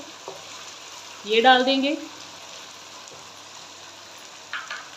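Chicken and tomato cubes fry in oil in a pan for chicken handi, giving a faint, steady sizzle that runs beneath a woman's brief speech.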